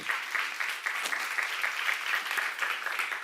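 A congregation at a church teaching session claps steadily, a dense even patter of many hands sustained throughout without break.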